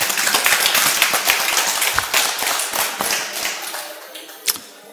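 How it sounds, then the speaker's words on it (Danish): An indoor audience claps for a speaker in a short, dense burst that thins out toward the end, with one louder clap near the close. "Skal vi ikke lige prøve, om I kan få en klapsalve op til Peter?"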